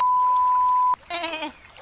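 A single bleat from Sheeper, a sheep character in a Minecraft series, coming after a steady electronic beep that cuts off abruptly. The bleat is short, wavering and close.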